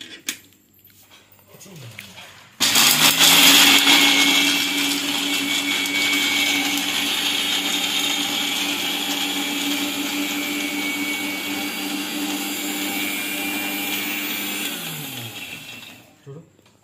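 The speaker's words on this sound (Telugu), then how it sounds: "మిక్సీ పడతాను ఫ్రెండ్స్." An electric mixer grinder grinds peanuts into powder, a loud steady whirring drone that starts abruptly after a quiet moment and runs for several seconds before winding down.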